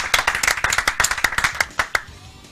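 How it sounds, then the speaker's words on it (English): A single person claps in a quick, irregular run of about a dozen sharp, close handclaps that thin out and stop, sounding more like one pair of hands than a crowd. "it deserves an applause"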